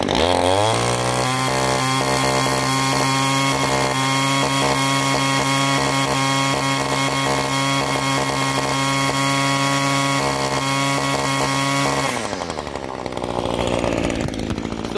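An Echo SRM-225 string trimmer's small two-stroke engine screams at full throttle after a carburetor change, a loud, steady buzzing whine held for about twelve seconds before it drops off abruptly.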